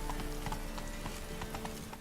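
Horse hooves clip-clopping in The Witcher III: Wild Hunt, a quick, regular run of distinct hoofbeats close by over a steady game background, with no talk.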